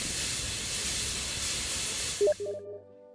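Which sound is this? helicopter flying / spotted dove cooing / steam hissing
steam hissing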